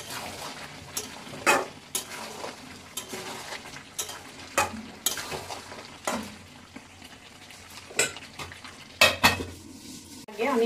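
Mutton curry is stirred in a covered pan, with sharp, irregular clanks of a spoon against metal and a lid rattling over a soft, low sizzle.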